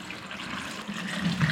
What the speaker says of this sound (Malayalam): ഇനി ഇതിലേക്ക് വെള്ളം ഒഴിച്ച് കൊടുക്കാം.